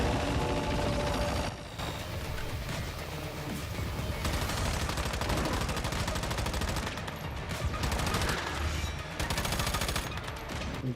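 Rapid video game gunfire crackles in a dense, sustained barrage from start to finish, with short dips in intensity along the way and no talk over it.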